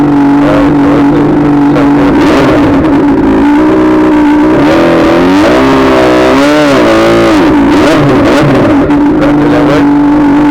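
A Honda CBR600RR sport bike with straight pipes revs hard for a burnout, a loud, continuous high-pitched engine scream rising and falling in pitch.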